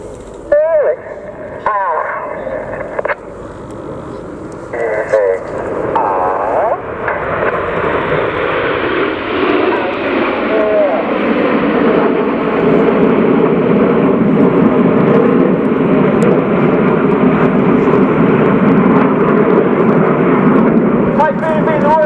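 An RAF Eurofighter Typhoon display jet at the Cosford airshow: a public-address voice talks at first, then a loud, broad jet roar swells in and holds steady and powerful to the end.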